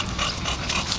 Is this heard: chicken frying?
no